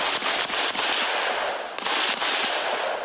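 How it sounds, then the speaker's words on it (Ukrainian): Loud, rapid bursts of gunfire from shooting practice with an American Desert Tech sniper rifle, with sharp cracks and echoing reports crowding together across the whole stretch, and no voices. "Тепер на ротації відновлюються та управляються у стрільбі."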